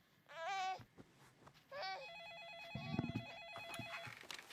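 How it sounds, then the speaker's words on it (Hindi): A telephone rings in a family home, repeated warbling electronic ring bursts followed by a steady pulsing tone, close and clear with faint background noise and no talk. "फोन बच रहा है"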